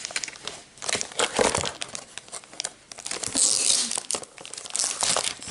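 Paper or plastic wrapping on an item from a Nihonbox subscription box crinkles and tears in bursts as it is pulled open by hand, loud and close with no talking.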